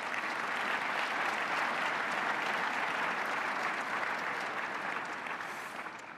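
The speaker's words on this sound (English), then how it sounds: "let's give David Taylor and his team a round of applause" A large audience at a mayor's State of the City address applauds in a dense, steady wash of clapping that holds evenly for several seconds and then begins to fade slightly.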